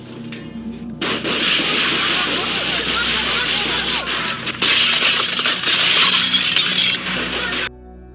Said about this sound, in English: the suspect opens up with an M16 rifle